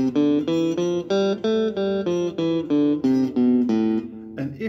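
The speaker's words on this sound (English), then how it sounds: "So your one octave on A natural minor should sound like this." An A natural minor scale is played on guitar in open position over one octave, about a dozen clear single notes picked one after another at a steady, even pace.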